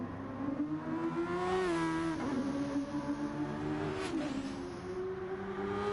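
A race car engine in a sim racing game heard from onboard, with a sustained tone rising and falling through gear shifts and revs, fairly faint and steady.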